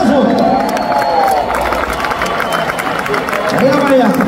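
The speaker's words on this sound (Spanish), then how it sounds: "¡Un aplauso!" A large live concert crowd at a show cheers, shouts and applauds for several seconds in a dense, continuous roar, with voices mixed into the noise.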